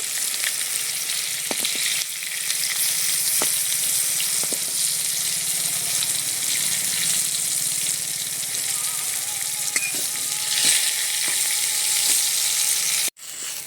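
Pointed gourd slices frying in oil, being turned over in the pan, producing a loud continuous close sizzle with a few sharp clicks of the utensil, ending abruptly.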